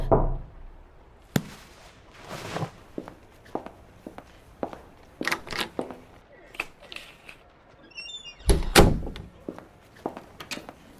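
Knocking at a door in a period audio drama set in Whitby, a series of hard wooden knocks and thumps scattered irregularly over about eleven seconds, some louder and nearer, with a faint rustle between them.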